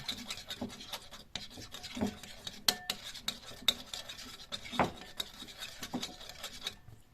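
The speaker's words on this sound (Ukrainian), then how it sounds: "Так, гарненько змішуємо щоб всі інгредієнти у нас змішалися." Ground chicken and marinade for kabanos sausages are stirred together in a bowl, a faint, close series of soft scraping and squelching strokes in an irregular rhythm, with no voices.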